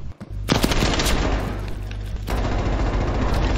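Rapid gunfire in Black Ops Cold War during a gunfight tournament match, loud and close with dense overlapping shots running through most of the stretch.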